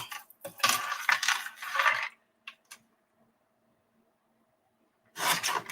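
Paper-crafting tool trimming and rounding the corners of journal paper, heard as quick scraping, crunching cuts in bursts, a couple of small clicks, a quiet gap, then another firm cut at the end.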